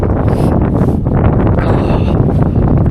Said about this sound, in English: if the wind was died down a bit, it wouldn't be so bad